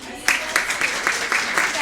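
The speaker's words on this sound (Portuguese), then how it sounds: "A Dani merece palmas, gente?" A small group claps for Dani, a cook, in a gourmet kitchen space at an academic food week, with scattered hand claps breaking out in short uneven bursts over a steady background of murmured talk.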